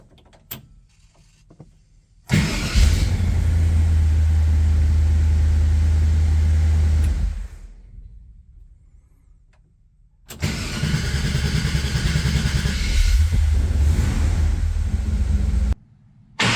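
A classic GM car with a new starter cranks briefly and fires up, idling loudly and steadily for several seconds before shutting off, then starting again and idling once more.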